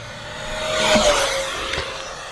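A small electric ducted-fan F-16 Falcon RC jet whooshes past with a high-pitched whine, swelling as it nears and fading as it moves away, with no voices.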